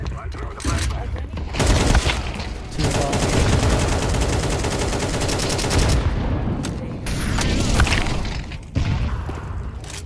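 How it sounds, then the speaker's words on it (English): Video game combat with flashbang and gunfire: dense, loud bursts of rapid shots and booms roll on almost continuously, broken by brief lulls. "Throw in the flashbang. Throw the flashbang."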